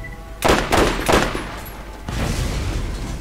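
Sniper rifle fire in the video game Borderlands: three sharp, loud shots in quick succession, each with a short ringing tail, followed by a lower rumble of game ambience.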